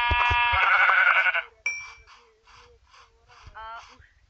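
Sheep in the Minecraft video game bleat in a loud, buzzy cry at the start, followed by a few shorter, fainter bleats spaced apart, with a voice briefly audible underneath.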